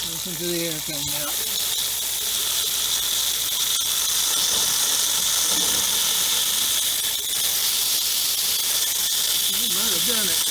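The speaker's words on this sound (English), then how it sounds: "Listen to the air coming out." A steady, loud hiss of air rushing out of a water line while starting a water system after a frozen pump, with some brief squeals and sputters over it.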